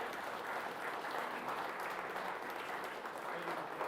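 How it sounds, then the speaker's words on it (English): Sustained applause from a crowd at a high school sports awards ceremony, steady dense clapping that fills the room throughout. "please give a round of applause for these two"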